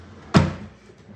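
A desk drawer is pulled open with one short, sharp wooden knock and slide, followed by a brief fading rumble in a quiet room.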